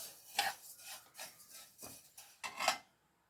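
White sesame seeds dry-roasting in a pan give off bursts of scraping and rustling, four or five distinct stirring strokes at an uneven pace before the sound stops, with no talking.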